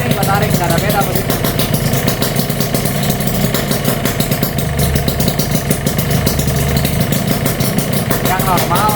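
A Yamaha RX King two-stroke motorcycle idles loud and close with its choke pulled, a steady buzzing putter running throughout while someone talks over it.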